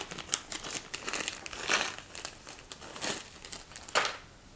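A plastic packaging bag holding slotted solid brass screws is crinkled and handled up close, giving off irregular bursts of sharp crackling with a couple of louder rustles.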